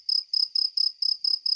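Crickets chirping in a steady run of seven evenly spaced pulsing bursts, close and fairly clear, with no other sounds.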